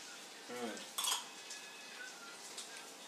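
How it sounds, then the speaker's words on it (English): A spoon stirs in a hot cup of coffee in a kitchen, giving a few faint, quick clinks and scrapes against the cup over a quiet background, with a brief voice at the start. "And this is how I stir."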